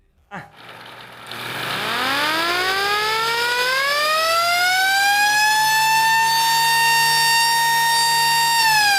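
A homemade industrial siren spun by a rotary tool spins up from a low growl into a loud, rising wail that climbs steadily and then holds a sustained high tone.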